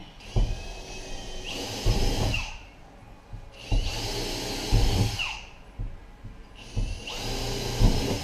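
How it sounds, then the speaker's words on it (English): A power drill runs in three bursts while driving screws into the roof of a Ford Transit van during a MaxxAir fan install, each whine rising then stopping with quiet gaps between, close and loud. "then we'll drill this in"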